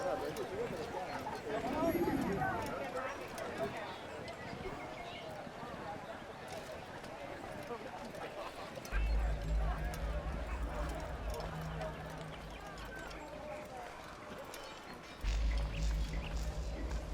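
Horse hooves clop along at a run in Assassin's Creed, faint and steady beneath a voice, with deep low rumbles swelling in partway through.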